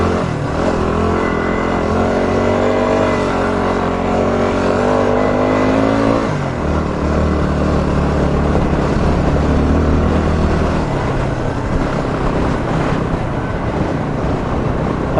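A small motorbike ridden on the road, its engine note climbing steadily through a gear, then dropping and settling into a steady drone with wind rush over the microphone, loud and close throughout.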